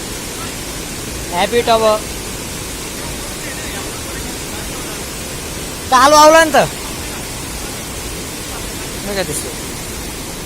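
A waterfall near Bishnu Dwar in Shivapuri National Park gives a constant loud rushing roar filling the background, while a person speaks briefly over it a few times.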